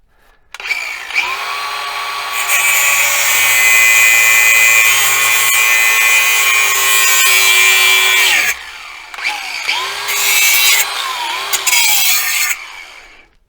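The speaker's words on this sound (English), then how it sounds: "This is where you need a cutoff wheel" A cutoff wheel grinds through the top of a billet shift knob for a Kawasaki KRX 1000, a loud, steady high-pitched whine for about seven seconds, a short pause, then a second burst of cutting before it spins down.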